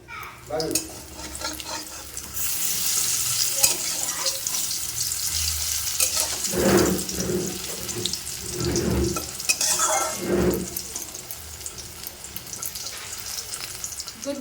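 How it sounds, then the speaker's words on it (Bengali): Pakoras frying in a pan in a home kitchen: a steady hiss of oil runs throughout, with a few louder scraping and stirring bursts in the middle, close and fairly quiet, with no talking. "আগে পকোড়াটা ভেজে নিই"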